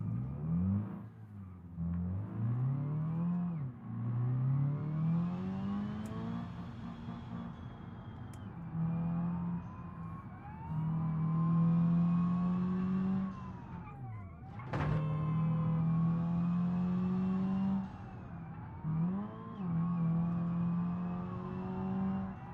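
Engine of a car in BeamNG.drive with a police car close behind, revving up and down through sequential gear shifts, loud and near, with the tone climbing and dropping repeatedly.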